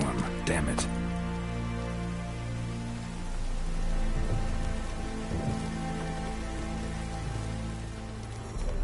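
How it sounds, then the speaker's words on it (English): Steady heavy rain pours in a Witcher 3 rainstorm at a battlefield camp, a dense continuous wash with low rumbling thunder underneath and a sharp crack near the start. "A storm, damn it."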